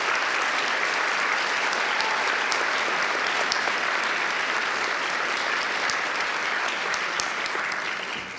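Warm, sustained applause fills a hall at a University of Galway winter graduation ceremony as new graduates clap for their families and friends, even and unbroken, tapering slightly at the very end.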